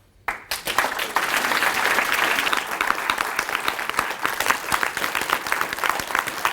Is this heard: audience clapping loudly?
yes